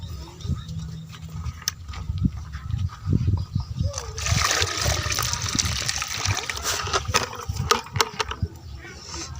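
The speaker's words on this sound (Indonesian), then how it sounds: "Ini bakal kita coba kita siram dulu." Water splashes and trickles onto potting soil for a potted fruit tree in bursts, gushing more steadily midway, with quiet talk in the background.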